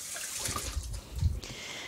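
Tap water running over a fresh strawberry being rinsed in a kitchen, a brief steady splashing flow that dips and surges, close and moderately loud.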